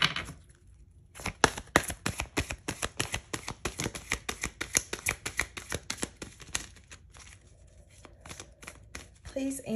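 A deck of tarot-style cards is riffle-shuffled by hand, rapid crisp flutters in bursts across several seconds, close and fairly quiet, with a brief voice at the start.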